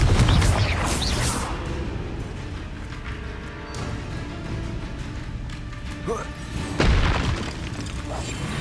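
A Confringo blasting curse in Hogwarts Legacy fires with a heavy booming blast at the start and a second loud burst near the end, with rumbling debris and a voice speaking over it.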